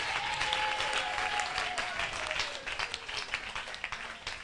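A church congregation claps and cheers in sustained applause, with a raised voice briefly audible over the dense, even clapping that continues throughout.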